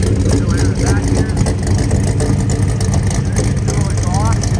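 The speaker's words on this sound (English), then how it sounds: "Dual exhaust. Listen to that idle." A 1964 Chevrolet C10 custom truck with a GM 502 crate engine and dual exhaust idles steadily nearby, a loud continuous low rumble with no breaks, with voices faintly audible over it.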